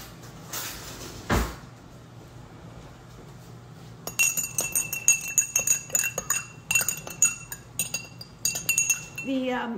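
A metal spoon clinks repeatedly against a glass of water during a freshwater test, a rapid run of bright, close taps and rattles that follow a brief rustle and continue to the end.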